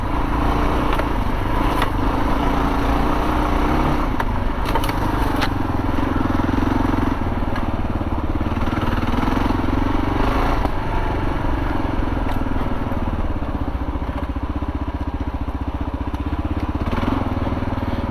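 A 2022 Kawasaki KLR650 motorcycle with a Delkevic 14-inch stainless exhaust is ridden off-road, its engine droning loud and continuous throughout, with rough crackling texture and no talk.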